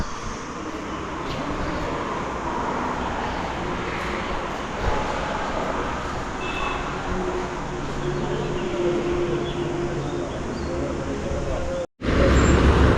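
Steady rumble of a shared auto rickshaw ride through road traffic, with engine drone and road noise throughout, brief passing sounds, and a sudden dropout near the end.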